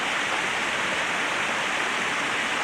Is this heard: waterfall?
yes